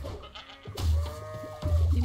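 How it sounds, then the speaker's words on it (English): Sheep bleat in the video game Bang-On-Balls: Chronicles, two drawn-out wavering bleats close and fairly loud, with a short pause between them over faint game background sound. "You know, sheep."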